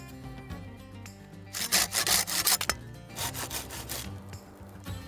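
A bow saw cuts through wood while a bed is being built, making loud rasping strokes in a fast back-and-forth rhythm near the listener, with quieter scraping before and after.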